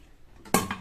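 A pressure cooker lid goes on with a sharp metallic clank, followed a moment later by a second lighter clink, close and otherwise quiet.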